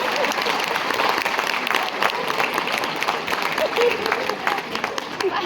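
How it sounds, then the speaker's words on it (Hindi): An audience at a Hindi comic poetry gathering claps in a sustained, dense round of applause, with voices faintly mixed in beneath the clapping. "तो एक बार अपने अपने हिस्से की तालियां बजा दीजिए।"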